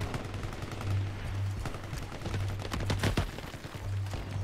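Sniper rifle fire from the online shooter Shatterline, a run of sharp cracks and rapid shots layered over steady game noise and a low droning hum, fairly loud throughout.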